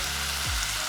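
Curry with tomato puree fries in two pots on a camping stove in a van, a dense steady sizzle filling the brief moment with a faint stir.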